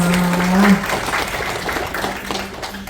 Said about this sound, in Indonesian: Tepuk tangan untuk ibu-ibu hijabers.